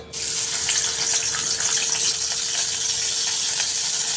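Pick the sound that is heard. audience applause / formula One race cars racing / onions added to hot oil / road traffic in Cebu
onions added to hot oil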